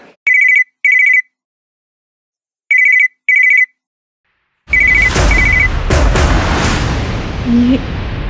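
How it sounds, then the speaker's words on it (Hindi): A phone ringtone rings in repeated short bursts, pausing between them, then keeps ringing faintly under a burst of loud, noisy commotion. "ये रिंगटोन तो अब्बू के फोन की है।"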